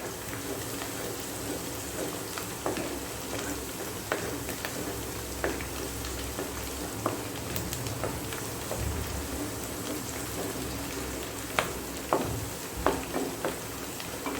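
Garlic, ginger and green chili fry in a pan with a steady, crackling sizzle and scattered faint pops and stirring scrapes, continuous and close.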